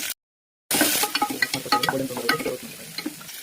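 Spices, pepper and chicken are stirred in a hot sizzling pan, with scraping strokes and popping crackles rising after a brief silence, close up and without talk.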